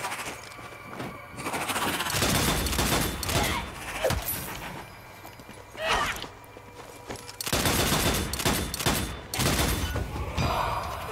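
Rapid gunfire bursts from the video game Strange Brigade, played on Xbox One, with loud volleys of shots and thuds repeating across the stretch over a dense game soundscape.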